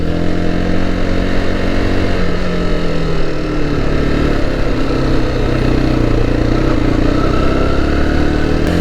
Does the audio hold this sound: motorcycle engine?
yes